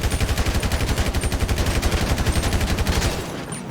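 M4 rifle fire in the FiveM game, a rapid automatic burst of evenly spaced shots, loud and close, running for about three seconds before cutting off into a fading tail.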